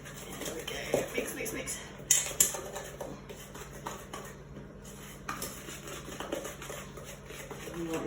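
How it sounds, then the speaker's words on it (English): A spoon clinks and scrapes against a bowl while Easter biscuit mixture is beaten by hand at home. The clatter comes in irregular bursts and quieter gaps, with a voice talking at times. "we've got to start giving it a good mix around like this"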